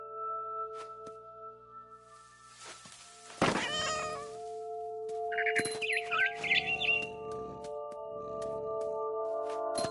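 In What Remains of Edith Finch, a cat gives one clear, drawn-out meow, followed by bright bird chirps over a sustained musical backdrop, all fairly quiet and near.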